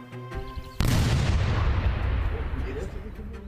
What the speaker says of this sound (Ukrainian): вона вибухає, не досягаючи цілі